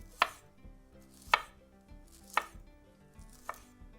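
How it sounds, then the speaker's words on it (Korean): A knife thinly slices broccoli on a cutting board, four crisp, distinct chops spaced about a second apart, close and clear with quiet pauses between. "브로콜리가 제일 안 익어요. 얇게 썰어주세요."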